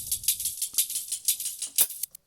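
Mid-band hi-hat hits processed with delay and a limiter patter in a quick, slightly uneven groove, crisp and close, with no voices.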